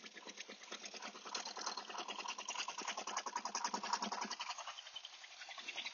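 A 1901 Renault Type D Series E veteran car's engine runs steadily with a dense, rapid mechanical chatter that stays loud and close throughout, easing slightly toward the end.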